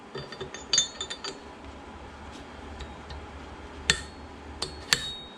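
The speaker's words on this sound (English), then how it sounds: "We'll go ahead and drop the gear on here in a minute." A gear being set onto a Volkswagen air-cooled 2007cc stroker short block in a workshop: light metallic clinks and taps, a cluster early on and a few sharper clanks near the end, over quiet room noise.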